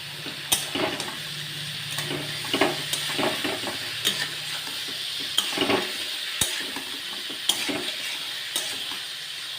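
Bitter gourd, potato and brinjal sizzle in hot oil as a spatula stirs and knocks against the pan, giving repeated sharp scrapes and taps over a constant frying hiss.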